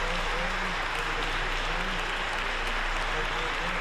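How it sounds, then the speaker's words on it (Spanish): Applause for the Orfeón Arandino choir after its performance at a Mass celebrated by the papal nuncio, a steady wash of clapping heard under a speaking voice and a constant low hum. "Aplausos a este Orfeón Arandino, que lo ha hecho espectacular"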